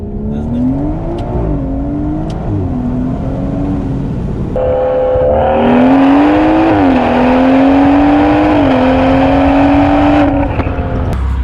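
A BMW 340i sedan accelerates hard in first gear, its engine note climbing steadily and loudly with brief dips at shifts or traction breaks, continuous and close throughout.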